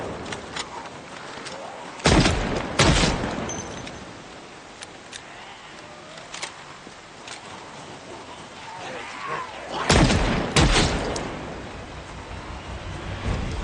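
Sharp, loud shots from a 1911 pistol in the zombie survival game Project Zomboid ring out in two close pairs several seconds apart, over quiet in-game ambience and small ticking sounds.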